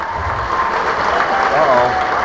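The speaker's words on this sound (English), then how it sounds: "Give these two lightweights a big round of applause." A crowd at a lightweight fight event applauds loudly and without a break, the clapping filling the whole stretch with faint crowd noise and voices mixed in underneath.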